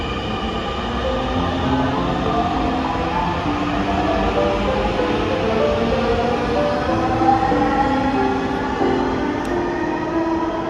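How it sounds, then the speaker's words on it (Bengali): A Dhaka metro rail train passes with a steady, loud rumbling roar that holds evenly throughout, heard close and without talk. "ঢাকা শহরের মেট্রো"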